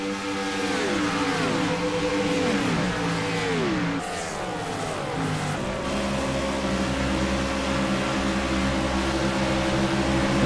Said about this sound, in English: you hear him get out of the gas as he goes through the short chute, entering turn 4